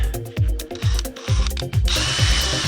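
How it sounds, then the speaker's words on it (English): A power drill boring a 1/8 pilot hole during a utility trailer kayak modification, its motor pulsing in short revving bursts up close, then settling into a steady grinding whir as the bit bites. "I'm just doing a pilot hole, go in 1/8, put it, put it on the X."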